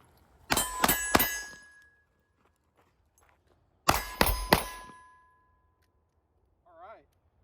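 Bullets from a Fusion Firearms XF Pro pistol ring off steel targets in two quick bursts of three bright metallic clangs each, with lingering ringing tails, followed by a brief voice.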